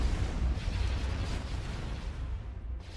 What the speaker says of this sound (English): there's that HV gun